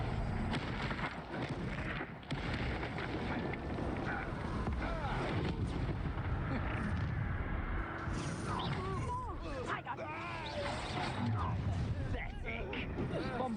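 Bombarda and Confringo explosion spells blast repeatedly in Hogwarts Legacy, a dense, continuous barrage of booms and crackling effects mixed with game noise, with voices speaking over the combat.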